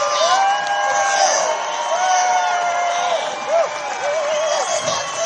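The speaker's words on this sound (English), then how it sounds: "Give the trumpets a round of applause for standing up for you." Outdoor crowd at a trucker convoy rally cheering and whooping for trumpeters, a sustained roar of voices with shouts rising over it and some clapping mixed in.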